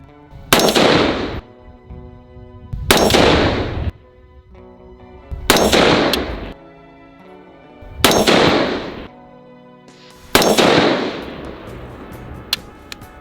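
Five loud, sharp AR-15 rifle shots chambered in 224 Valkyrie, fired downrange outdoors, spaced roughly two to three seconds apart, each with a booming echoing tail.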